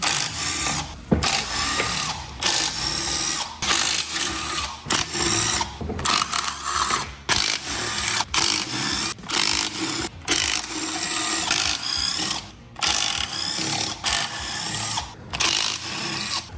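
Rapid clicking of a ratchet spinning out 12 mm bolts from a Honda Fit GD3 transmission, with repeated bursts of mechanical ratcheting broken by brief pauses, close and fairly loud throughout with no talk.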